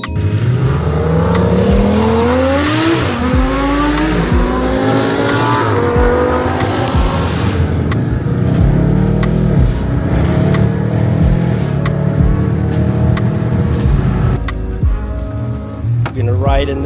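A Lamborghini Huracan Performante drives the winding mountain road of the Tail of the Dragon. Its engine revs loudly up and down through rising and falling gear pulls, close and continuous, while people talk over it.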